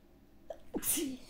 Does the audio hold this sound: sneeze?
yes